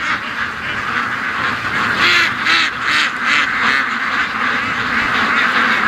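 A flock of ducks quacks and honks continuously at a feed run, loud and close, a dense overlapping chorus of calls that pulses steadily throughout.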